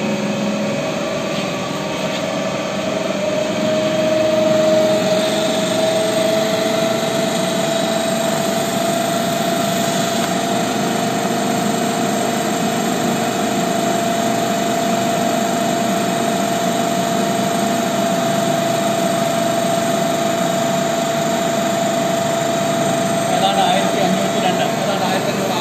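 Alternator machine set being run up to 1500 RPM, giving a loud, steady mechanical whine and hum with a constant tone throughout, while someone talks over it.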